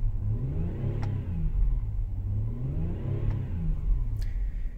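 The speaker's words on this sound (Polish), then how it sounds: "Posłuchajcie sobie teraz dźwięku silniku w aucie." A Mazda Xedos 9 with a 2.5 V6, recently started and still cold, heard from inside the car as a close, low, steady rumble that gently rises and falls with light revving.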